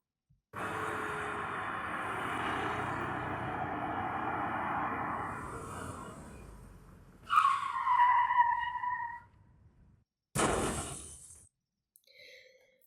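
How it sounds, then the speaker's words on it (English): A long tire skid screeches, followed by a loud metallic crunch and a second sharp impact, then quiet. "to achieve this crashing audio, we imported a sound that we found on YouTube"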